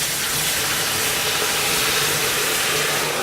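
A glug of white wine hits a very hot pan of mussels and cockles with shallot and fennel trimmings, setting off a loud, continuous hissing sizzle that stays strong and steady from start to finish.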